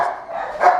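A puppy gives a single short bark, close and fairly loud, with a small rise at the end and no talking around it.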